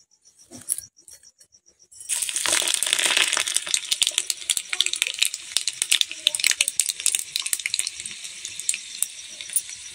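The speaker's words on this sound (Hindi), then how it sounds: "तो तेल भी हमारा गर्म हो जाएगा, तो लहसुन, जीरा और मिर्चाई का फोरन डालेंगे" Garlic, cumin and chillies drop into hot oil for a tempering with a sudden loud sizzle that keeps crackling and spitting, with scattered sharp pops throughout.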